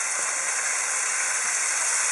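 Celery and onions hit a hot pan of slightly browning garlic for a ragu sauce, giving a steady, even sizzling hiss that holds at the same level throughout, with no voices.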